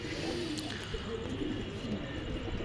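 Rajshahi Giribaz pigeons coo softly at a pigeon farm, low murmuring calls overlapping amid faint background noise, fairly quiet and brief.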